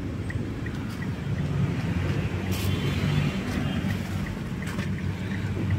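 Mitsubishi Xpander Exceed manual, second facelift, engine running: a steady low drone with a broadband rushing layer, continuous and fairly loud, with no talk.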